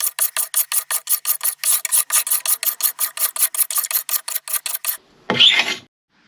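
A hand scraper rasps old paint off wood in about twenty steady, even strokes, loud and close. It ends with a brief, softer brushing sweep.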